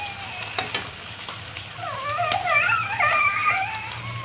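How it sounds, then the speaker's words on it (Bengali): Onions fry in oil until browned, giving a continuous close sizzle with occasional stirring knocks, while a high, wavering whine, like a dog whimpering, rises in the background during the second half. "আমি পেঁয়াজটাকে বাদামি করে ভেজে নেব"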